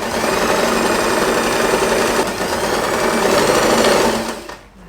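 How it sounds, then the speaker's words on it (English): A sewing machine stitches fabric bow pieces with a loud, steady, continuous whirring hum at close range, running without pause before winding down at the very end. "we are going to sew this part."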